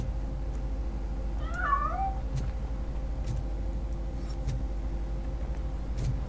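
A cat meows once in the RoboCop: Rogue City video game, a short wavering cry standing out over a steady low ambient hum and faint periodic thumps.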